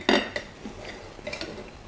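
A knife cuts into a bacon bomb, bacon-wrapped, with a sharp metallic clink of cutlery on a plate followed by a few softer taps and scrapes, close and quiet, with no talking.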